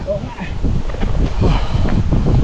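Gusty wind buffets the microphone with a rough, rumbling roar throughout, a voice faintly present beneath the noise.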